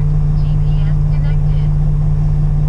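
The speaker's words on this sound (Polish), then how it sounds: "Zapomniałem, odpaliłem silnik." A car engine idles just after being started, a loud, steady low drone throughout the short stretch with faint sounds above it.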